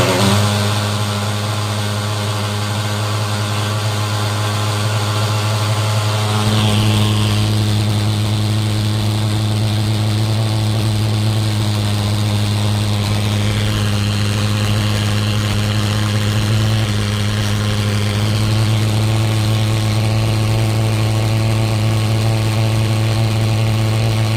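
Igeba TF35 thermal fogger engine running, a loud continuous droning buzz with a strong steady hum held throughout, its tone shifting slightly a few times, close and with no talk.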